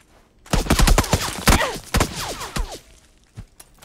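Gunfire in PUBG on the Erangel map: a quick volley of loud, close shots in a rapid cluster, followed by a few scattered, fainter shots with ringing echoes trailing off.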